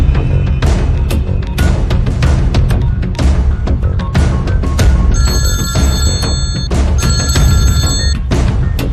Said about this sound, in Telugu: దుగ్గల్ కి ఫోన్ కొట్టు.